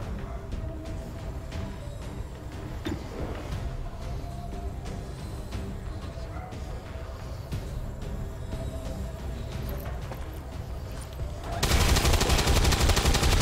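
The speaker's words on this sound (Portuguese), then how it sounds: "O cara dá tiro de Magnum com uma mão só." Magnum handgun fire in the video game XCOM 2 rings out amid game sounds, with repeated gunshot bursts under low background noise and a sudden loud, dense blast of firing near the end.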